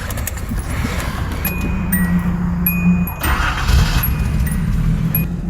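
A Datsun 280ZX engine runs steadily at low, rumbling idle, with a few light metallic clinks and jingles over it and no talking.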